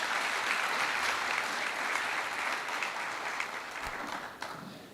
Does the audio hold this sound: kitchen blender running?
no